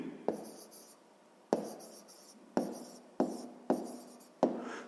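A pen or pencil writing an answer on paper for a sixth-grade maths exercise: six short, sharp taps, each followed by a brief fading scratch, close and quiet in a still room.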